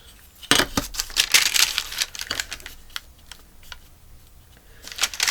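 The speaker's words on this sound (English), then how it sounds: "And I'm going to just tear it." A paper file folder torn by hand, heard as a string of close, sharp rips and crackles in quick bursts, busiest early and then thinning out.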